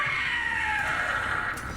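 Gloomhowler monster in Dragon Age: The Veilguard letting out a single drawn-out, high wailing scream that slowly falls in pitch, loud and close over low rumbling ambience.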